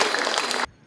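An audience at a tribal community hall opening ceremony bursts into loud, dense clapping for just over half a second before it stops abruptly.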